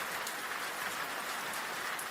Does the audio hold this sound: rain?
yes